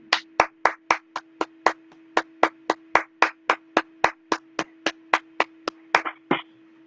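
A single pair of hands claps in a steady, even rhythm, about twenty sharp claps close by, standing alone without talk and ending with a couple of softer, looser claps.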